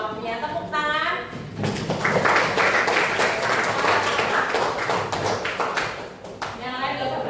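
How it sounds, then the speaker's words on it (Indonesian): A classroom of students claps for quiz winners in a short lively burst of several seconds, with a teacher's voice speaking just before and after. "Tepuk tangan."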